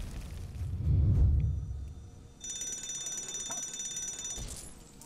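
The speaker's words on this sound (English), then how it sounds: "Well, at least we know the fire alarm works." A fire alarm in Lego Marvel Avengers sounds a steady, shrill electronic ring, starting about halfway through after a low rumble and continuing to the end.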